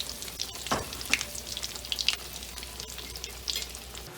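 Eggplant steaks fry in a pan, giving a continuous crackling sizzle with scattered louder pops and spatters throughout.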